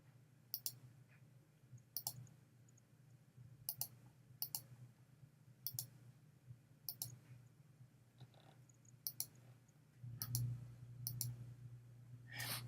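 A computer mouse clicks repeatedly and close up while shift-clicking in design software, with sharp single and double clicks spaced irregularly over a low steady hum.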